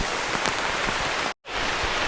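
Steady heavy rain falls in a durian orchard, a dense close hiss with no break except a moment of silence near the end.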